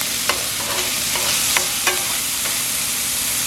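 Empanada filling stirred in a hot pan, with light sizzling throughout and a few sharp scraping clicks of the utensil against the pan at irregular intervals, close and moderately loud.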